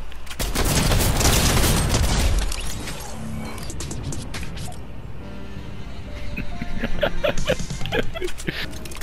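Video game gunfire begins with a loud, dense crackling volley that fades after a couple of seconds, followed by scattered quieter shots and clatter.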